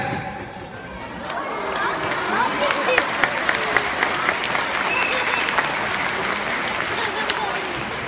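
An audience watching a dog act claps steadily, a full round of applause that builds after a soft start, with voices and chatter mixed underneath.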